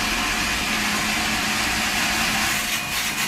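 A water pump motor feeding a bladder pressure tank starts up and runs as a steady, loud, even hum with no break.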